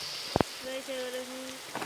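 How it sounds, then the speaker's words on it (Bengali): Rain falls in the forest survival game 99 Nights in the Forest as a steady soft hiss. Two sharp clicks and sustained tonal game sounds sit on top of it. "বৃষ্টিও শুরু হয়ে গিয়েছে।"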